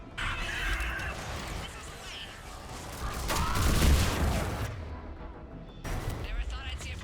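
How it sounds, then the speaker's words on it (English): Hydra missile launcher fired in Mass Effect 3's Leviathan content, a loud surge of blasts and rumbling explosions building to a heavy peak midway, then a brief lull before more bursts. "Hydra missile launcher."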